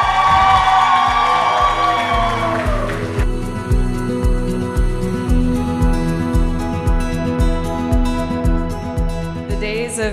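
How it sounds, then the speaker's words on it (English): Wedding guests at a Buddhist and Hindu ceremony cheer and whoop, with loud crowd noise over a steady, pulsing beat of music throughout; the cheering is strongest at the start and eases after a few seconds. "Everybody, round of applause."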